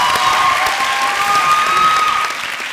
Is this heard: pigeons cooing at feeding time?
no